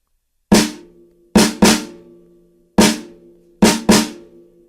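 A solo snare drum plays a dotted eighth-sixteenth syncopated rhythm: sharp, close, dry strikes, mostly in quick pairs of a long-short figure, six hits in all with short ringing decays and silence between.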